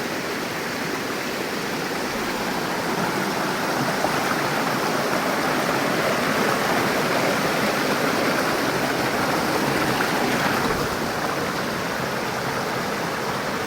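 Thottiparai waterfall at Odugathur, Tamil Nadu, pours with a steady, full rushing roar of falling water, continuous and even throughout, with no voices.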